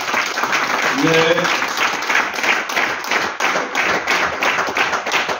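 Steady, dense applause from an audience at a press club event, continuous and fairly loud for several seconds, with a brief voice heard over it.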